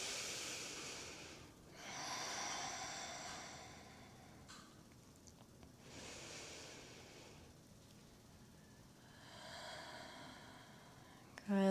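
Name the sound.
breathing during a yoga standing flow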